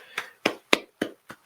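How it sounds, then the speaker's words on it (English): Several people clap in a short burst of five separate, sharp claps at a steady rhythm, fairly close and moderately loud, cheering a Notre Dame-Miami college football player in a locker room. "Hey man, let's clap it up for Wesley the Saint"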